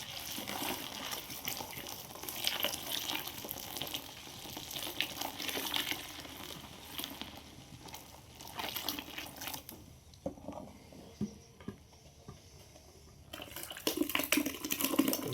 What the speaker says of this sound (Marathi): हे जे पाच लिटर पाणी राहिलेलं होतं ते पाणी मिक्स करून घ्यायचं याच्यात